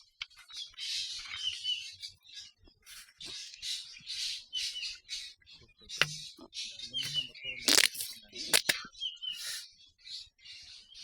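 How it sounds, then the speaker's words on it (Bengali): Garden birds beside a river give scattered chirps and sharp squawks at moderate distance over a quiet background, joined by a few sudden cracking knocks. "পাখির ডাক"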